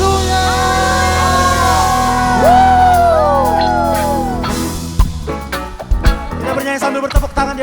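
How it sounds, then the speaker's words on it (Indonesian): A church congregation at a worship service shouting and cheering hallelujah together, loud overlapping voices rising and falling, followed by sharp bursts of clapping and scattered shouts near the end. "Sorakan haleluya."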